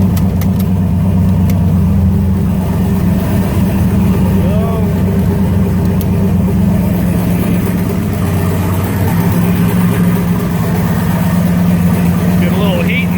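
A car engine idles steadily up close to warm up the transmission, a continuous low rumble for several seconds with a slight rise in revs midway.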